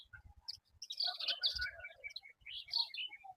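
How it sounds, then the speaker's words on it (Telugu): Sparrows chirp near fields at dusk, a lively flurry of short high tweets and overlapping calls in quick bursts, fairly close and soft, with no voices. "పిచ్చుకలు చూడండి, అవి అరుపులే మీకు వినిపిస్తున్నాయి"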